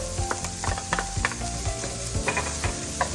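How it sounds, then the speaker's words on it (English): Ginger and garlic fry with onion in a hot pan, giving a steady, close sizzle with a few light clicks and scrapes from stirring throughout. "Cook for a minute until you can smell the fragrance from the ginger and garlic"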